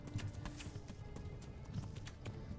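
Horse hooves clip-clop at a steady galloping rhythm in the medieval video game Kingdom Come: Deliverance, quiet and even throughout.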